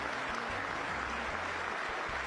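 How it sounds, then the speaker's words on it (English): A crowd of North Koreans clapping in a played video, a faint, quiet patter of applause that runs steadily through the short moment. "You know those videos of North Koreans and they're all clapping?"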